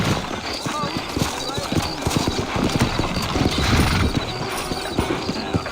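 Horses clip-clop along in Red Dead Redemption, a steady patter of hooves over a busy game soundscape, with a character talking over them and a brief whinny mixed in.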